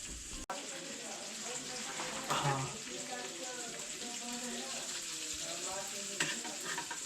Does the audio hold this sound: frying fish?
yes